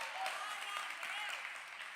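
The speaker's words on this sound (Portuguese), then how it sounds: "Dá uma salva de palmas a Jesus" A church congregation claps during a sermon, a short, fairly quiet burst of dense, even applause.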